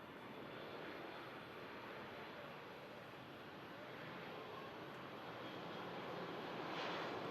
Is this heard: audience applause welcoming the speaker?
no